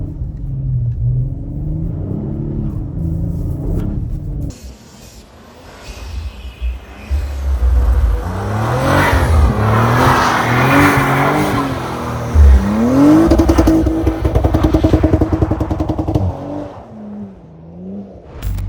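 Audi RS4 B9 with Quattro all-wheel drive accelerating through snow, its engine rumbling and revving loudly and close, rising and falling over several surges with tyres working in the slush, no talk.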